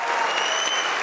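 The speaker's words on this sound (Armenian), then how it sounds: "Եկեք ավելի բարձր ծափարենք Անժելային եւ ուղեկցենք։" An audience at a comedy show applauding, dense steady clapping throughout the short stretch, loud and close with no pauses.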